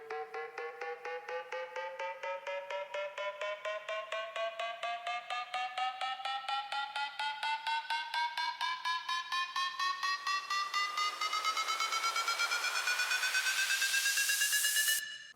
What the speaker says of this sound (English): And to give the second part of the drop more energy, I put on a riser.